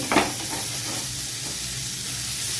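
Tandoori chicken pieces sizzle steadily in a pan over medium heat, a continuous loud frying hiss with a brief scrape as pieces are turned at the start.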